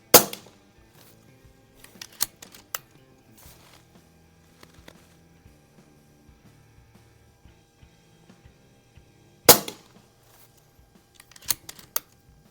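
Umarex Notos PCP air rifle firing Barracuda 18 pellets at a 25-yard range: two sharp, loud cracks about nine seconds apart, each followed by a few quieter clicks of the action, over a faint background.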